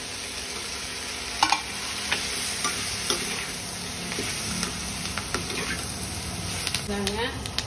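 Coconut fries in a pan for sundakkai chutney, giving a steady crackling sizzle with scraping stirs and a few sharp clinks of the spoon throughout.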